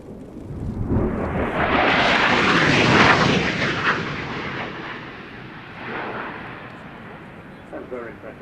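A Polish MiG-29 jet fighter makes a fast display pass at the Royal International Air Tattoo on dry power near 600 knots. Its roar swells to a loud peak and then fades into a rumbling wash.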